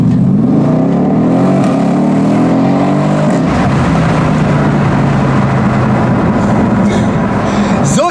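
Mercedes-Benz E63 S AMG 4Matic with a Stage 2 tune at 735 PS, accelerating hard: a loud, continuous engine roar climbing steadily in pitch, with a brief shift partway through, then rising again with no talk over it.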